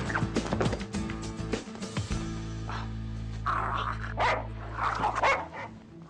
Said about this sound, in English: I have to catch that dog.